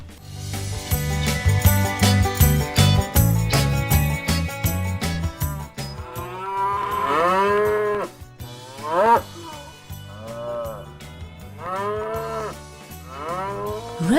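Cows low on a farm, with a string of long, drawn-out moos and bellows rising and falling over each other, loud and close, following a stretch of bright musical tones at the start.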